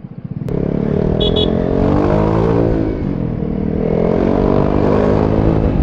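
A Vespa GTS 300 scooter rides through traffic, its engine note climbing loudly as it accelerates, then easing briefly before pulling again, close and steady throughout.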